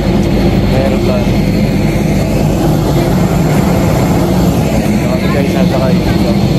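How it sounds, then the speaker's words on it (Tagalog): A loud, steady airplane engine drone at Zvartnots Airport in Armenia, a continuous broadband roar with no breaks from start to finish. "Aeroplano."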